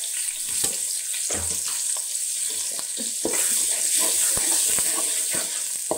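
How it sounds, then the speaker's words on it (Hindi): Chopped onion sizzles and fries in hot ghee in a pan for eggplant curry, a steady crackling hiss with scattered louder pops and stirring scrapes, close and continuous. "अब इसके अंदर हम प्याज डालेंगे।"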